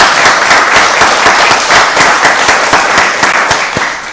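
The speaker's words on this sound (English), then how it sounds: "Let's give him a round of applause." Applause from an audience at a Rockdale County Board of Commissioners meeting after award ceremony photos, dense steady clapping with sharp individual claps standing out, loud and close, sustained for the whole stretch.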